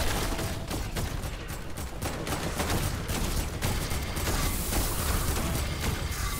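Continuous rapid gunfire shooting zombies in Fortnite on a creative tycoon map, a dense, steady barrage of overlapping shots over loud game noise with no break.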